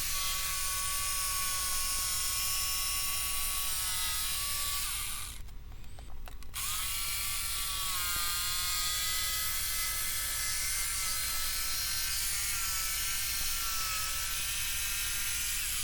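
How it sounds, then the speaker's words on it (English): A jigsaw cuts a circle out of a board for a folding outfeed table, running as a steady, loud, high-pitched buzz that stops briefly partway through and then resumes at full strength. "I could then use my jigsaw and carefully cut to the line."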